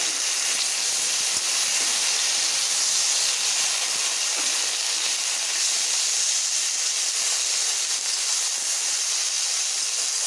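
Water splashes onto pointed gourd peels frying in a hot pan, producing a loud, continuous steamy hiss that holds evenly throughout.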